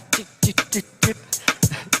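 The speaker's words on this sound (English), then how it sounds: "I can even make a little hi-hat." Crisp, hissy hi-hat-like ticks tap out a quick, slightly syncopated rhythm up close, about a dozen hits in two seconds.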